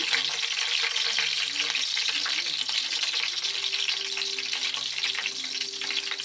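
Green chillies fry in a pan for a fish curry, giving a steady, close, bright sizzle with crackling throughout and a faint low hum beneath, with no talking.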